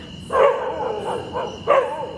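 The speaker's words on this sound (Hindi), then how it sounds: "एक इन कुत्तों का संकेत है।" Dogs bark outdoors in a few sharp, fairly close yaps spaced across a couple of seconds, over a faint steady background hum.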